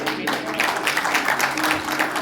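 Loud, sustained applause from an audience at an evening devotional gathering honoring Shree Ram, steady dense clapping throughout with a few voices mixed in.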